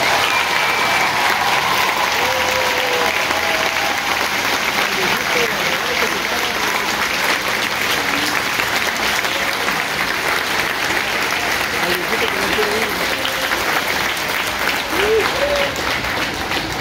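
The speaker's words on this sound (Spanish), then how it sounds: "Un aplauso a los padres." Sustained loud applause from a crowd of families at a school choral concert in Tijuana, honoring the parents; steady clapping runs the whole time, with scattered voices and cheers mixed in.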